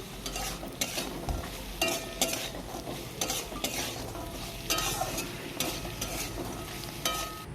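Fried crab pieces tossed in a pan with chilli powder, sizzling steadily while a utensil scrapes and stirs in repeated strokes, close and fairly loud with no talking.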